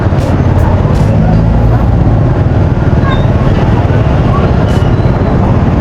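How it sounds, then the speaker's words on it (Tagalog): Steady, loud road traffic with buses and cars rumbling past close by, a dense continuous roar with a few brief higher clanks. "Traffic."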